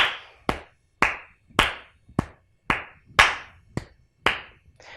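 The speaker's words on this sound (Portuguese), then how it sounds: "A palma mais forte." Hands clap loudly nine times in a slow, fairly even rhythm, each sharp, close clap ringing briefly in a quiet room with no voices.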